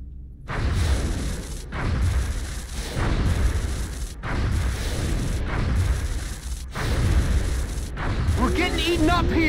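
An interceptor downs a UFO in XCOM: Enemy Within with a loud string of heavy, booming blasts in a roughly regular rhythm, broken by brief gaps, and a voice is heard briefly at the end.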